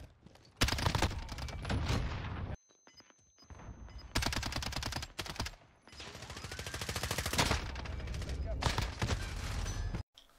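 Striker 45 SMG firing in Call of Duty Mobile, loud rapid automatic bursts in several long strings separated by short pauses, with faint game sounds between them.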